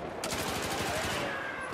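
Rapid automatic gunfire in the online shooter Battlefield 4, a steady rattling burst of shots filling the whole moment amid dense game noise.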